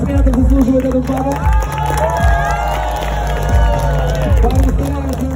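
A crowd at a dance battle cheers and claps loudly, whoops and shouts rising over thumping music in a busy hall.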